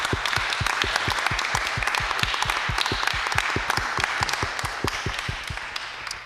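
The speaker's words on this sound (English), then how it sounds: "could we all give Philip a really wonderful round of applause?" A lecture audience applauds the speaker, many hands clapping steadily in a dense crackle with a regular, prominent rhythm of a few near claps running through the whole stretch.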